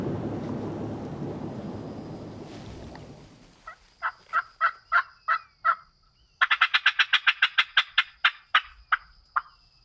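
A wild Osceola turkey in Florida woods calls in sharp repeated yelps, first a spaced series of about six, then a faster run of a dozen, after a fading rumble like distant thunder.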